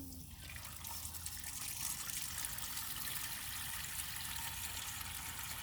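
A hose pours well water into a used aquarium, a steady close splashing and trickling fill that runs unbroken throughout with no voices.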